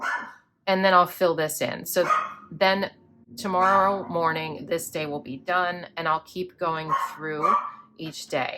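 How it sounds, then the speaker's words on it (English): A pet dog barks indoors at home, with short barks mixed in under a person talking steadily nearby. "Sorry about the barking"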